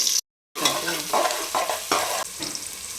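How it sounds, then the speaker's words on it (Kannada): Garlic and onion fry in oil as a stir spoon scrapes through them, a close sizzle broken by several rhythmic stirring strokes after a brief silent gap at the start. "ಬೆಳ್ಳುಳ್ಳಿ ಸ್ವಲ್ಪ ಫ್ರೈ ಆದಮೇಲೆ ಈರುಳ್ಳಿ"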